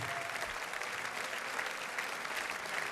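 Steady, dense applause from the carnival audience in Düsseldorf during the 2026 Helau carnival show, a continuous even roar of clapping held at a moderate distance throughout.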